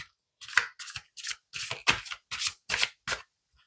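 Oracle cards being shuffled by hand, about eight crisp riffling bursts in quick rhythm, close and clear with silent gaps between and no speech.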